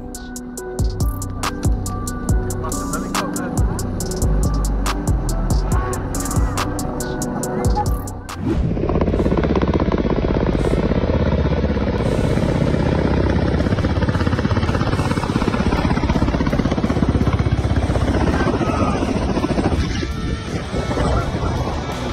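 A Ka-52 attack helicopter passes low and close, a heavy roaring wash of rotor and wind noise that swells and holds loud, preceded by rhythmic thumping blade beats.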